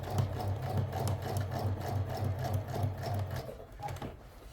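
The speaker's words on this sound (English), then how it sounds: "So I'm just going to stitch around that curve again, particularly as this fabric frays a lot." Sewing machine stitching around a curve in fraying hat fabric, a close, steady rhythmic chugging hum with repeated pulses, running alone without talk.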